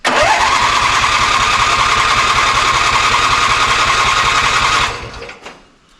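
A small engine with the choke on catches right away and runs at a loud, fast, steady rattle for about five seconds before cutting off and sputtering to silence.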